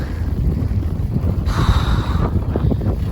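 Gusty wind buffets the microphone with a low, rumbling roar that swells and fades, alone with no voices.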